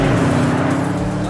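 A Porsche Panamera Turbo S saloon on a racetrack braking into the first chicane on the start-finish straight, with a loud, close engine drone whose pitch shifts slightly across a short moment, heard alone without talk.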